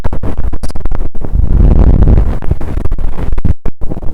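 Close, loud scratching and rubbing right against the microphone, with rustling scrapes in an uneven rhythm like an ear pick scraping inside an ear.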